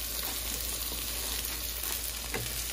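Eggs frying in a skillet give off a soft, steady sizzle and crackle, faint and continuous throughout, with no voices.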